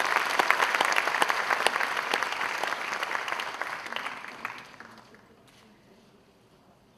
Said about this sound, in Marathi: दोन्ही हातांच्या जोरदार टाळ्या